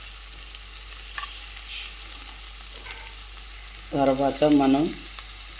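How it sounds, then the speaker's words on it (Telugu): Onions, green chillies and curry leaves fry in hot oil, giving a soft sizzle that builds into a couple of louder bursts of crackling and stirring near the end, with a short spoken phrase early on. "ఈ విధంగా ముందు ఉల్లిపాయలు, పచ్చిమిరపకాయలు, కరివేపాకు బాగా వేపుకుంటామండి."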